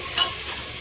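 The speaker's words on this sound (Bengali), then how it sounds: "নুন, লঙ্কার গুঁড়ো, হলুদ গুঁড়ো, জিরে গুঁড়ো, ধনে গুঁড়ো সবগুলোই দিয়ে আমি ভালোভাবে কষিয়ে নেব।" Spices sizzling in hot oil in a pan for egg potato curry (dim aloo), including salt, chili, turmeric, cumin and coriander powders, with a brief stirring scrape over a steady close frying hiss.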